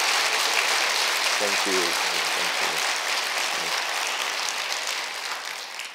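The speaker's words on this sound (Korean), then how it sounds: "박수로 우리 환영하도록 하겠습니다." A church congregation applauds to welcome guests during a Sunday service, with dense, sustained clapping that fades slightly toward the end while a voice speaks briefly over it.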